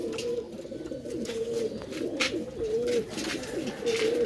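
Rooftop breeder pigeons coo nearby in soft, repeated throaty phrases. The calls overlap in a steady, unhurried rhythm over quiet background noise.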